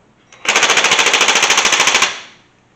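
A Ryobi 1/2 in impact wrench hammers on its lowest setting, giving a loud, close, steady rattle of rapid impacts that lasts about one and a half seconds and then cuts off.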